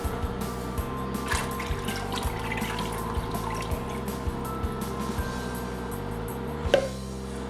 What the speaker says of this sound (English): So we're gonna add 2 quarts of bone broth.